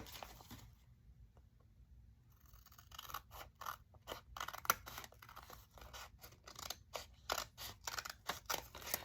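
Scissors snipping through paper while trimming an envelope pocket, a run of short crisp cuts and scrapes in close, uneven rhythm after a brief quiet start, with no talking.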